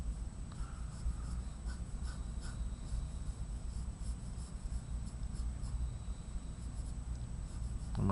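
A pen scratches across paper, drawing a block letter for a one-point perspective project, in quick, soft strokes and rubbing sounds repeated steadily over a quiet room background.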